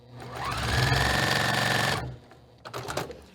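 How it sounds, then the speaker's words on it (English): A sewing machine stitches straight over quilt fabric from a layer cake quilt, running steadily for about two seconds with a rising whir, then stopping, followed by a few light handling clicks. "I'm just going to stitch right on top of that, maybe an inch past, and just cover the previous stitches"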